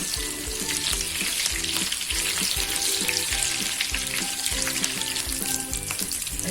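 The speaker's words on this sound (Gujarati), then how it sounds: "ડુંગળી મરચું સાથે નાખી દેશું એટલે એકદમ સરસ ફ્રાય થઈ જાય" Onion and green chili fry together in hot oil that was already used for frying, making a loud, dense, continuous sizzle with a steady run of rhythmic stirring knocks underneath.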